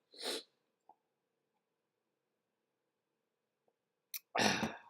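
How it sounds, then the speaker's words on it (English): Close, forceful nose-blowing comes in two loud bursts, one at the start and one at the end, with near silence and a faint click between. "excuse me as I blow my nose"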